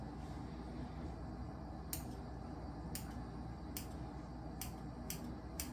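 Scissors snipping through a thick white beard, six faint, crisp clicks spaced irregularly about a second apart over a quiet room hiss, close to the ear with no talking.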